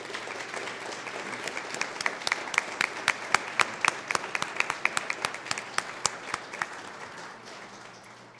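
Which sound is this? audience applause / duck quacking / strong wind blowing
audience applause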